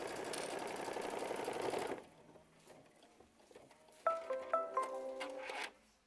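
Embroidery machine stitching a second run, first a steady dense mechanical whir for about two seconds, then quieter with a few tonal beeps near the end.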